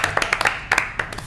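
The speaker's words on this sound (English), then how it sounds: "Break, applause break, yep. Applause break." A few people clap briefly and unevenly at a live E3 gaming show, with sharp separate claps close by rather than full applause.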